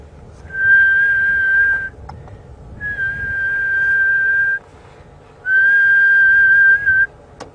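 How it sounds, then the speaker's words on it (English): A spookvoël (ghost bird) gives a plaintive call at a game reserve: three long, steady, pure whistled notes, each held for over a second with pauses between, clear over quiet bush background. "It's got a lovely call, a sort of plaintive whistling call that goes."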